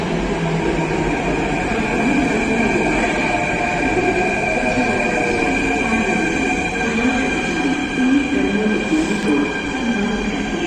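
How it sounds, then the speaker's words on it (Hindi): A Delhi Metro train pulls into Ballabhgarh station, a loud steady rumble of rolling wheels and motor hum with sustained tonal whine and faint squeal throughout, close by and continuous. "और ये आ गई हमारी मेट्रो।"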